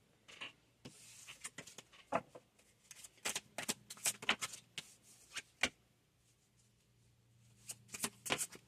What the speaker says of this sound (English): So I want to pull some tarot cards.